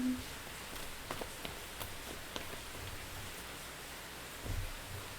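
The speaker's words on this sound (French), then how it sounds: "il pleut très fort chez nous aujourd'hui" Steady heavy rain hisses continuously, with occasional louder drops and a low rumble near the end.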